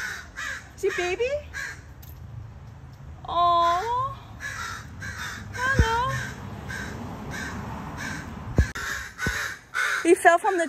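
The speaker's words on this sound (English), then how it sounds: "These naughty crows" Several harsh crow caws ring out in short bursts, some overlapping, with people talking softly in the background and occasional sharp knocks.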